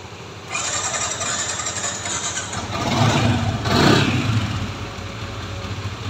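A Honda CB motorcycle engine cranks and catches, then settles into a rough, close idle, with two louder revving surges before easing back to a steady putter.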